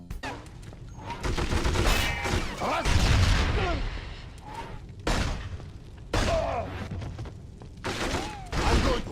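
Gunfire in the 007: From Russia With Love video game comes in repeated loud bursts with booms and thuds separated by short lulls, under game effects and voices.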